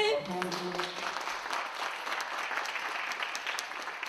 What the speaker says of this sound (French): Bon, on peut les applaudir.